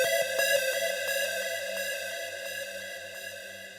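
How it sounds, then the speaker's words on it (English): Futuristic Serum synth drenched in Raum reverb, with bright sustained tones over a steady pulsing low pattern, spacious and continuous throughout. "here I add Raum, which is a nice free reverb"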